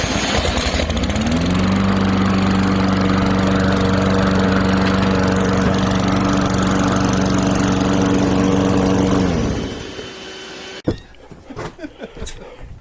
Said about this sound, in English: Starting the lawnmower.